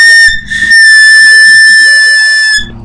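Piccolo blown with the embouchure set too far up, giving a shrill, airy whistling tone with an unstable, wavering pitch that holds for about two seconds, loud and close, with no talking.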